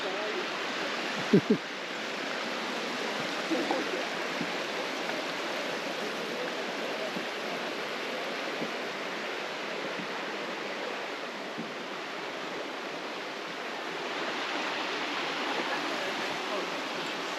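Steady rushing water from Barnes Creek and a small waterfall near Lake Crescent fills the scene, a constant broadband roar with no voices, close and unbroken throughout.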